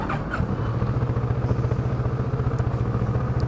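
A Kawasaki Z650 motorcycle engine runs with a close, steady, even pulsing thrum and a light mechanical clatter, holding at a constant pace with no speech.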